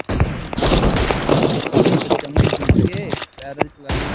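Rapid gunfire in PUBG Mobile, including M24 rifle shots, crackles in dense bursts of sharp close reports with brief gaps, mixed with game sounds and talk throughout.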